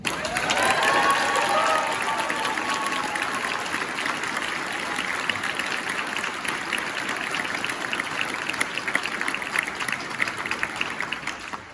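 Sustained audience applause fills a hall at an event honoring the first Asian elected district attorney of Sacramento County, dense and steady for the full length with a faint voice early on.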